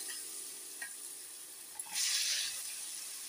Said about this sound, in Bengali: আলুটা হালকা করে ভেজে ভেজে নিচ্ছি।